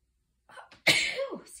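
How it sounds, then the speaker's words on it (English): A single loud sneeze at close range, preceded by a couple of short sharp inhales, indoors while someone is sorting craft supplies such as eyelets. "I think I'm going to start sneezing again."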